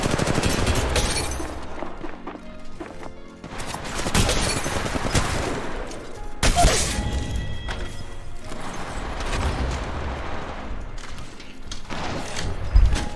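Gunfire in the mobile shooter Apex Legends Mobile rattles in dense bursts across the whole stretch, loud and continuous with brief lulls, mixed with other game effects and no talking.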